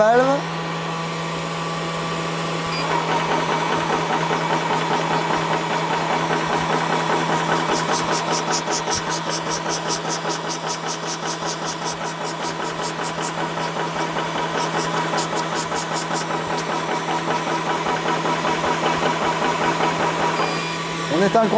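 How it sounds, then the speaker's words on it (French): A Vevor 350-watt high-pressure PCP air compressor runs continuously with a loud, steady mechanical hum and rapid pulsing chatter, with a fan whirring alongside, for about twenty seconds before it shuts down. "On éteint le compresseur."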